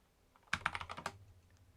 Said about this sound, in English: I'm typing commands from a rando on the internet.